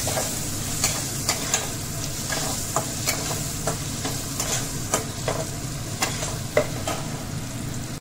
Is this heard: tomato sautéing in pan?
yes